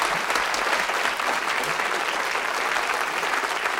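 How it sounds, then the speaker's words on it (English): A studio audience at a 1979 television game show breaks into dense, sustained applause, a steady wash of clapping that holds at even strength throughout. "Give them a round of applause, folks."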